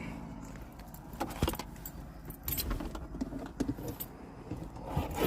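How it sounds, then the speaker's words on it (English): Keys jangle in irregular metallic clinks during a roadside traffic stop by a North Carolina state trooper, close by over a steady car engine rumble. "You can carry your keys with you."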